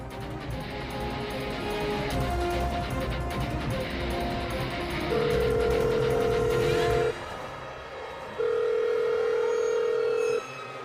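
Outgoing telephone call ringing unanswered in a Marathi TV serial scene: two long, steady ringback tones separated by a pause, heard over faint background noise and music.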